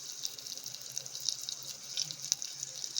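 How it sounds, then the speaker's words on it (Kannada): Tamarind water splashes into a pan while a Kannada lentil-stuffed flatbread rasam is cooked, a faint, steady trickle with small drips, no voices. "ಆ ನೀರು ಹಾಕ್ಕೊಳ್ತಾ ಇದ್ದೀನಿ, ಹುಣಸೆ ಹುಳಿ ಹಾಕ್ಕೊಳ್ತಾ ಇದ್ದೀನಿ."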